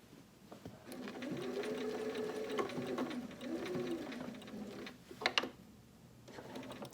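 Sewing machine stitching a machine appliqué of a cardinal, a steady whirring run of stitches that pauses briefly and resumes, with a few sharp clicks near the end, close and fairly quiet.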